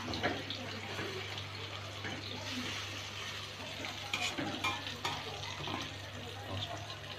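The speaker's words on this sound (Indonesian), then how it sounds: "Setelah agak lamaan, kita aduk seperti ini agar bagian bawahnya tidak gosong." Food being stirred in a pan so the bottom doesn't burn, a soft continuous scraping and light sizzle over a low steady hum, with a few sharper knocks near the middle.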